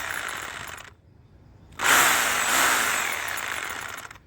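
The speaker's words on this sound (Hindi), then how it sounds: "इस तरह से हैमर में आने के बाद जब आप ड्रिल करते हैं तो ये ज़मीन को धक्का देता हुआ अंदर जाता है" Hilti hammer drill boring into the ground, a loud continuous grinding roar that cuts out briefly, then returns steadily with a harsher hammering texture.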